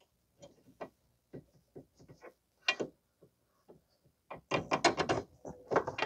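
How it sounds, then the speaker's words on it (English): Metal clunks and scrapes as a pry bar levers a 2006 Mazda 3 front lower control arm into line with its bolt hole, a few scattered knocks at first, then a denser burst of clanks close by. "using the pry bar to line up the hole, you can insert the bolt thereafter."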